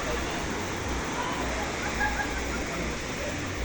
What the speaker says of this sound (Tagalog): Tingnan natin dito, baka malaki na yung alon dito.